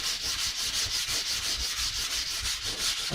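A red Scotch-Brite pad scrubs a glossy car fender in a repeated back-and-forth rhythm, a steady close abrasive rasping with no voices.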